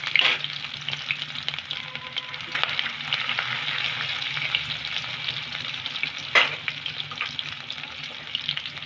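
Cumin seeds and grated ginger sizzle steadily in a hot pan for aloo jeera, with a spoon scraping and stirring through them and a couple of sharper clinks along the way; no one speaks.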